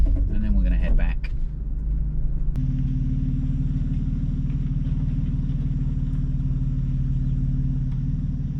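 A 2020 Toyota 4Runner crawls slowly off-road on a dusty Southern California trail, its engine giving a steady low rumble that holds close and even throughout, after a brief burst of other noise at the start.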